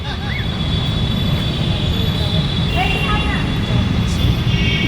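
A metro train passing, a loud steady rumble and roar with squealing wheel tones throughout, close by, with people talking over it.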